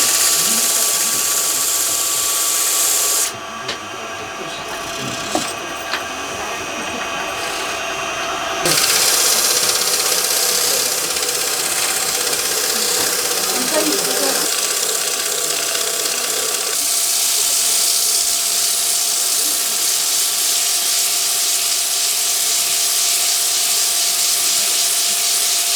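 A power sander runs on wood at an artisan event, a steady close rasping whir that dips briefly and resumes, with people talking nearby.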